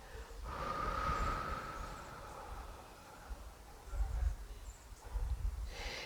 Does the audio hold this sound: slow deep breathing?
yes